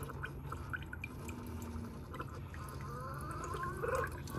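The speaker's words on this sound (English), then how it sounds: "I hear it gurgling. Something's happening." A coffee maker gurgles and drips while brewing, a soft bubbling under a steady background hum, with a brief louder burble near the end.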